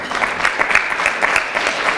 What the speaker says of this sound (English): We should all clap for that.